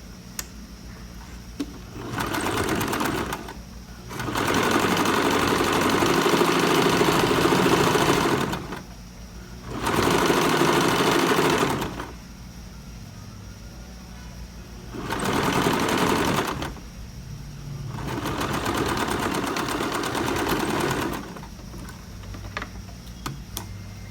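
A sewing machine stitches a 1 cm seam on a blouse in four loud, close bursts of fast steady whirring, separated by short quiet pauses, with no talk over it.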